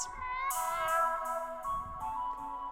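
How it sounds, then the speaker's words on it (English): Pet cats meow in the morning indoors, a few drawn-out, close meows following one another with short pauses and no talking. "As you can see, the cats are full of life in the morning."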